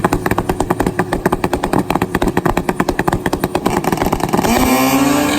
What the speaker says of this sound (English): We got another bar-to-bar motorcycle drag race, top end of the racetrack.